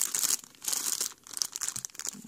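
Crinkly plastic crackling as small sequins are scooped back into a plastic bag, a steady run of close, bright rustles and crunches with short pauses, no voices.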